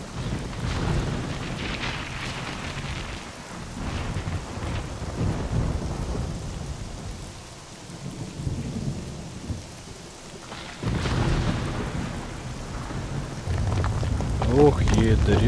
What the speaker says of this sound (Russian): Дождик пошел.